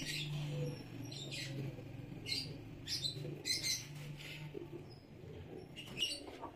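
Neel Dumy pigeons, a rare blue-tailed fancy breed, giving soft low coos along with faint chirps and tweets at low volume, with someone talking quietly in the background.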